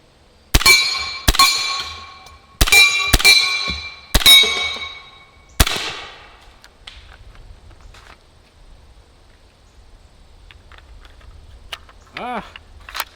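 A Pistelle X-68 fires six rapid shots at a steel Texas Star target, each impact a sharp metallic clang with bright ringing, in uneven bursts. Quieter handling noises and a short electronic beep follow near the end.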